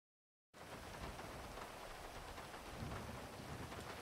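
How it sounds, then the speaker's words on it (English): Steady rain pours down alone, a dense continuous hiss with a low rumble underneath, beginning abruptly after a brief silence and holding at a constant level throughout. "Get out of this rain, huh?"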